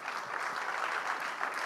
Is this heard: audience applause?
yes